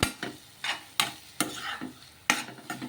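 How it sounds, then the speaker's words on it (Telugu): Mung beans and egg mixture being stirred in a pan, with repeated scraping strokes of a spoon against the metal and a soft sizzle of frying underneath, close and moderately loud. "ఇలా ఈ విధంగా బాగా కలిపేసుకొని ఇలా మధ్య మధ్యలో కొంచెం కలుపుకుంటూ ఉండాలి"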